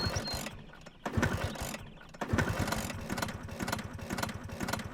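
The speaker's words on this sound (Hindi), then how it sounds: "ये स्कूटर स्टार्ट नहीं हो रहा" A scooter engine struggles to start, giving a loud, rapid chugging pulse that cuts out twice and catches again, running rough and near throughout.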